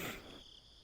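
Crickets chirp faintly in the background, a thin steady high trill that continues as a low rumble fades away.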